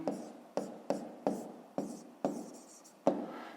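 A pen writes by hand in a math exercise book for a fifth-grade lesson, producing a series of about eight quick, close scratchy strokes in an uneven rhythm.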